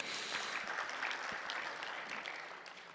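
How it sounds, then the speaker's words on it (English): Audience applause at an African human resources summit, a steady wash of many hands clapping that gently fades toward the end, heard from within the room. "Let's give ourselves a round of applause for that."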